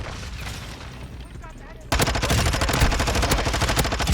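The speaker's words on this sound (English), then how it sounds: "They're shooting at me!" Rapid automatic gunfire in a Modern Warfare 2 multiplayer match: muffled bursts at first, then a sudden jump to loud, dense close-range shooting with sustained rattling volleys.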